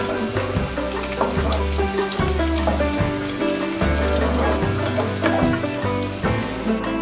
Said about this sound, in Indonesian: Goreng bawangnya sampai dia berwarna coklat ya